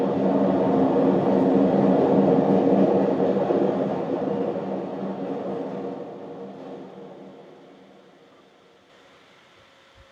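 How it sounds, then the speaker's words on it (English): Chicago Blue Line train pulling into a station, a loud broad rumble and rush of rail noise that fades steadily as the train slows, leaving a quieter tail. "A Blue Line train to O'Hare will be arriving soon."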